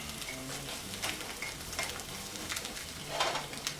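Eggs fry in a pan with a steady hiss and crackle while being shuffled back and forth, and scraping and stirring noises recur throughout without talk.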